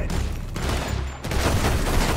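Rapid gunfire from dual-wielded guns in Red Dead Redemption 2 rattles in a dense burst, with a brief dip before the shooting resumes loud and continuous.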